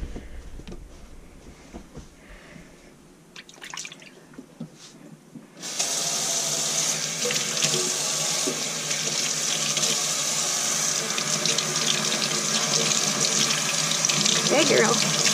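A tap is turned on for a guinea pig's bath. Quiet handling and rustling come first, then water gushes into a sink, running loud and steady to the end.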